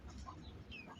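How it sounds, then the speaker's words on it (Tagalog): Giant chicken chicks clucking and peeping in a pen, several soft chirps and clucks overlapping close by over a steady low background. "ayan yung mga sisiw na giant chicken"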